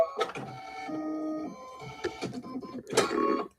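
An embroidery machine stitching out a design, with whirring motor tones, mechanical clicks and rapid needle movement that rise and pause in short bursts, close and moderately loud.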